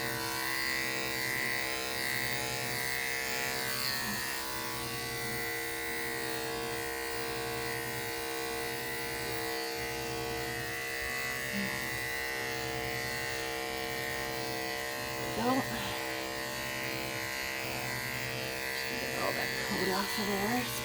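Electric clippers shave a thick, tightly matted animal coat with a steady, close mechanical buzz that runs throughout, while people talk over it.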